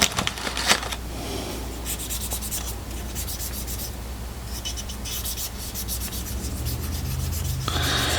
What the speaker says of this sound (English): we're just going to go down inside this hole and clean all inside here.